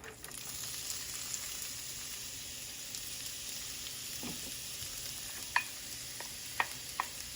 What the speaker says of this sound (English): Heat up our frying pan. I'm going to add about a tablespoon of olive oil, not a whole lot. And we're going to start sweating our onions.